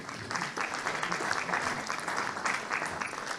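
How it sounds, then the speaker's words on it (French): A conference audience gives steady applause to welcome a speaker at a round-table event, with dense, sustained clapping that carries through without a break. "je vais accueillir Philippe Bourguignon sous vos applaudissements"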